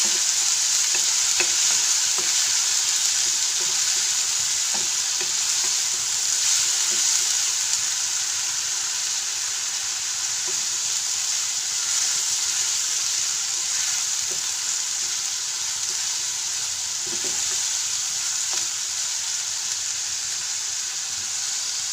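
Chilli curry sizzles in a pan over a high flame, a loud, even frying hiss with soft scattered scrapes of a spatula stirring now and then, close and unbroken, no voices.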